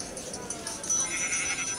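A short sheep bleat from a video game animal spawn mod, heard as a brief wavering cry amid game sounds.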